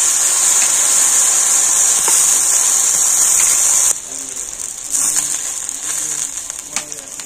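Water poured into a hot pan of fried ginger and cumin, a loud steady hissing sizzle and gush for about four seconds, then settling into a quieter simmering crackle with small pops.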